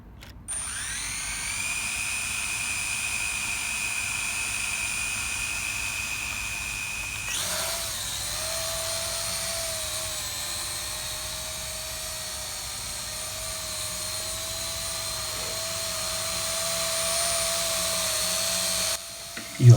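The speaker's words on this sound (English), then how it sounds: "Now the drone is ready to take off." A small quadcopter drone's rotors spin up with a high, steady whine that jumps in pitch partway through and holds as a continuous close buzz, cutting off abruptly at the end.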